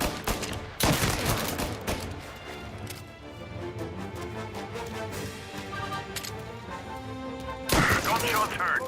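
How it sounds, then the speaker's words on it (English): Bursts of gunfire in the Mafia video game, with two loud volleys near the start and end and quieter shots, thuds and game sounds in between, mixed with voices. "Gunshots heard. Please respond."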